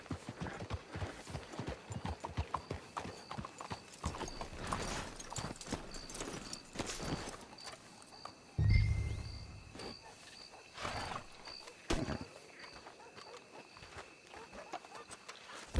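Steady hoofbeats of horses clip-clopping at a walk in the video game Red Dead Redemption 2, with a low thud partway through and faint background ambience.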